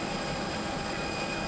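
An airplane departing an airport produces a steady, loud roar of engine noise with a constant broadband rumble and a thin whine, unbroken for the whole moment.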